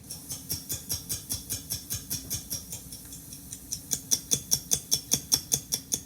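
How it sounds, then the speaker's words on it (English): An ordinary wristwatch ticks in a steady, even rhythm of roughly three ticks per second, close and crisp, faint at first and growing louder toward the end, with no voices. "Here is the sound of an ordinary watch."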